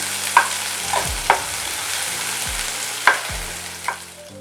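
Onion fries in a pan over medium flame, a continuous hiss punctuated by several loud metallic spatula clinks and scrapes against the pan at irregular intervals.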